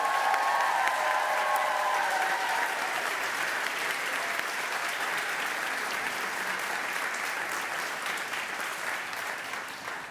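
Sustained applause from a convocation audience at a girls' school, honoring new faculty and staff: a full, even wash of many hands clapping that fades slightly toward the end, with a voice faintly audible early on.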